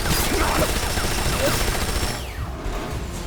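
Cannon fire from the Metal Gear Solid video game, a dense rolling barrage of booming blasts and gunfire that stays loud throughout and thins slightly near the end, with no speech.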